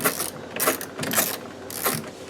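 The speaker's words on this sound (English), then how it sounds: "So we're going to take this bolt out, slide it through" A ratchet wrench clicks in quick uneven bursts at close range as a bolt is backed out of the side of a commercial engine block, with metallic ratcheting and a little clatter and no talking.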